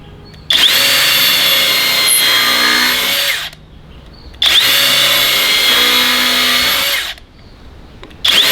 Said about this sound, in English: Pre-drill, countersink,